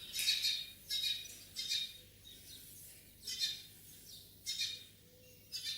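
A bird squawks and chirps in repeated bursts, about six sharp calls spaced roughly a second apart, fairly close and alone without talk.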